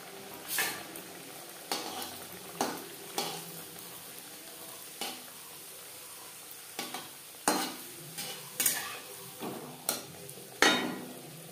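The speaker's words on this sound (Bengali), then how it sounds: "এভাবে প্রত্যেকটা কচুরি ভেজে নেব" A soft frying hiss runs underneath while a utensil scrapes and taps the pan about a dozen times at irregular intervals as chana dal kachori fry in oil; no voices.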